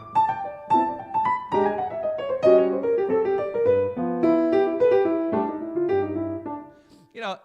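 Solo piano improvising outside the harmony over a groove, a flowing line of single notes and chords played steadily and moderately loud, ending with a brief voice fragment at the close.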